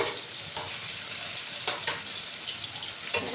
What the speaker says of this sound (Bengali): এবার আমি চিংড়ি মাছগুলো দিয়ে দেবো হালকা করেই ভাজবো